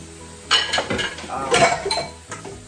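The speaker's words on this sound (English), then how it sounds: "I'm washing up these dishes." Dishes being washed by hand before a meatball and egg noodle dinner: ceramic plates and cutlery clink and clatter close by in irregular bursts over a steady background hiss of running water.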